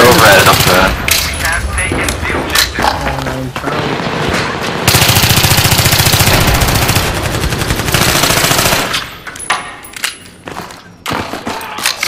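Rapid bursts of M5K submachine gun fire in Battlefield 3 close-quarters combat at Ziba Tower, loud and dense with sustained automatic strings and impacts, later thinning out, with players talking over parts of it.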